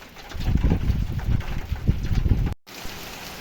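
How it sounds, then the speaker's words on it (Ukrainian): Heavy rain with unusually large drops pours steadily, dense and loud with a rumbling low roar, then cuts out abruptly near the end before resuming more softly. "Дуже крупні такі каплі, незвичні взагалі."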